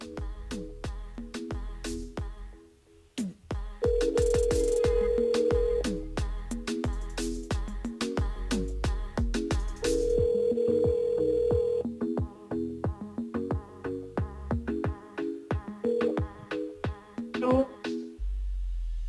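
A telephone rings during a live radio phone-in call, sounding as repeated electronic ring tones in bursts over a busy broadcast background with music-like tones and clicks, fairly loud and close.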